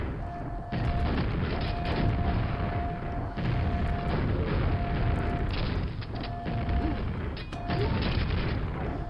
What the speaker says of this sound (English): Luckily we have the rocket launcher.